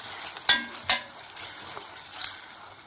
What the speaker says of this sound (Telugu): అల్లం వెల్లుల్లి పేస్ట్ కూడా బాగా ఫ్రై అయ్యేదాకా వేపేసుకోవాలి ఫ్రెండ్స్